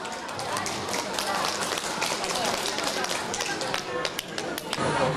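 Audience applause at a Fuzhou ballroom dance association New Year gala, a dense, continuous patter of many hands clapping throughout the hall.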